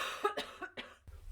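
A woman's cough bursts out several times in quick succession, close and fairly loud, with a short throat-clearing rasp at the end, heard indoors during a narrated art journal flip-through.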